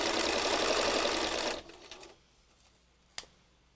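A sewing machine stitches fabric for a funky heart craft, a loud close continuous whirring run of about a second and a half that slows and stops, followed by a single sharp click.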